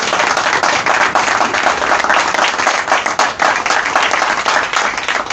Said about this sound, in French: je vous demande encore de les applaudir très fort